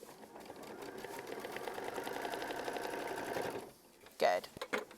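A sewing machine stitches fabric in a rapid, steady whirring chatter for about three and a half seconds, then stops. Brief clicks and handling knocks follow.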